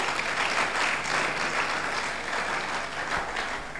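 Audience at a university convocation lecture claps steadily, a dense roomful of applause holding at full strength for about four seconds before easing slightly at the end.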